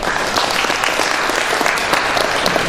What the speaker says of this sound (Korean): 박수 한 번 더 주시면 감사하겠습니다.